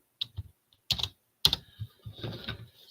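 Fingers tap on a computer keyboard in three quick bursts of crisp, close clicks, with a final short flurry of softer keystrokes; no talking.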